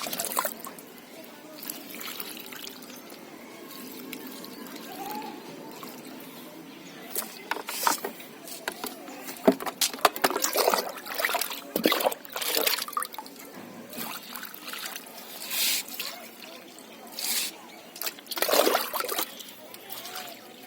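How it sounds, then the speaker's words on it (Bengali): Water is poured little by little onto potted flower plants in winter, making soft trickles and splashes that come and go over a quiet background, with occasional louder pours. "তো এই জল নিয়ে গাছে এগুলো একটু একটু করে দিয়ে দেবো।"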